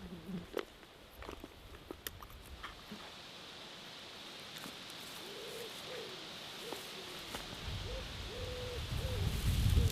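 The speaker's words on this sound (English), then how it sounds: "So many wood pigeons around here." Wood pigeons coo in quiet woodland, a soft repeated rhythmic call heard at a distance among faint rustles and light background ambience.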